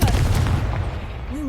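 A Confringo fire spell blast from the Hogwarts Legacy video game: a loud, close, low-heavy explosive boom that rumbles steadily for over a second, with a brief rising whoosh near the end.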